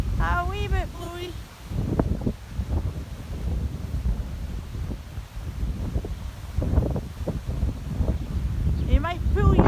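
Gusty wind blows outdoors, buffeting the microphone with low rumbling surges that rise and fall while a person talks over it.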